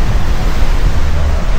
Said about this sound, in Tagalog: Malakas yung alo, no?